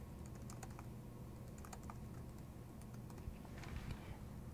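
Quiet, scattered keystrokes on a computer keyboard while a header is typed into a Microsoft Word document, soft irregular clicks over a low steady room hum.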